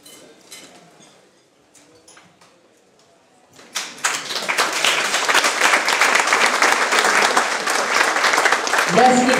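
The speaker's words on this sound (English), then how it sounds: "Let's give Sue Taylor a great round of applause." A few faint scattered sounds, then a loud burst of audience applause that swells and continues steadily, with some cheering near the end.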